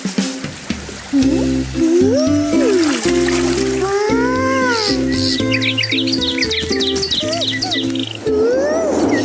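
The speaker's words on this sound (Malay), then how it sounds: "Cantik burung." Birds chirp and tweet in a natural outdoor setting in an Upin & Ipin animated adventure, with bright rising and falling calls layered over steady tonal music and a faint water trickle.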